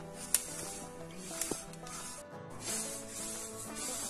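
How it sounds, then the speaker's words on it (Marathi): Sesame seeds roasting in a pan over a low gas flame while being stirred, a soft continuous sizzling hiss with faint scraping and a few light ticks, no talking heard. "कमी गॅसवर तीळ व्यवस्थित भाजून घ्यायचे आहेत, सर्व बाजूंनी व्यवस्थित हलवून।"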